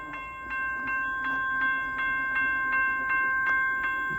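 An eastbound Norfolk Southern manifest freight train passes at Hoover Road in Milan, Ohio. It gives a steady horn-like tone over rhythmic clicking of wheels on rail joints, heard at moderate distance with no voices.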